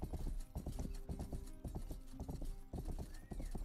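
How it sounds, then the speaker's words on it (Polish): Horse hooves clip-clop steadily along a road in the video game Rustler, a slow, even, plodding rhythm with a brief whinny, close and loud with no talking. "Ale wytrwały koń. Tą drogą. Wolny strasznie, ale wytrwały."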